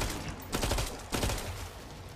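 Gunfire in the video game Killing Floor 2, two short rapid bursts of shots heard close over a steady background hiss.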